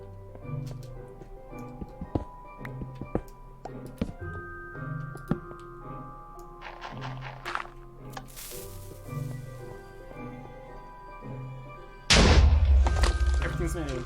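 Minecraft game sounds in a place built of obsidian, with scattered ticks, clicks and soft thuds under a speaking voice, then one loud, sudden explosion near the end.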